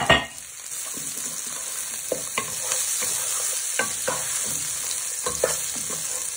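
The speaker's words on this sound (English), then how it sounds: "let them fry for a few minutes in with your chorizo so you can start smelling the onions and garlic" Onions and garlic frying with chorizo in a pan, a soft steady sizzle broken by repeated scraping strokes of a spoon stirring around the pan, close up.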